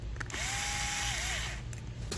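A power drill drives the screws on Element RC and SSD bead lock wheels for an RC car. The motor whines steadily for about a second, then dips and winds down, loud and close with no talk.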